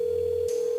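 Telephone line tone during a radio phone-in call, a steady electronic tone lasting under a second with a low hum that cuts off midway, no voices present.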